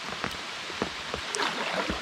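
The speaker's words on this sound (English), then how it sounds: "We stopped here, so it is still raining" Rain falling on a river during a kayak camping trip, a soft steady patter with scattered louder drips and splashes close by, nobody speaking.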